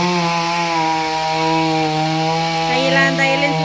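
A chainsaw runs steadily at close range with a strong droning whine, its pitch shifting slightly near the end as it bites into firewood, loud and continuous throughout.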